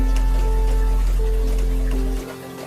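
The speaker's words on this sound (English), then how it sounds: "The rain simply is." Steady rain falls at a Victorian train station, a dense, even wash with a low rumbling bed and faint scattered drip detail, continuous throughout before dropping slightly in level near the end.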